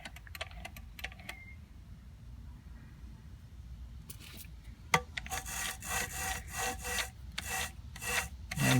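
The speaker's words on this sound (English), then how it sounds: "you're going to get grinding noise, because of the way the compound's designed" An engine valve is lapped against its seat with grinding compound, starting as faint scattered scratches and then building to a steady, gritty back-and-forth rasping that grows louder toward the end.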